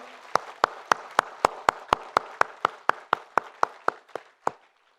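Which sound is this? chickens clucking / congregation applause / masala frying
congregation applause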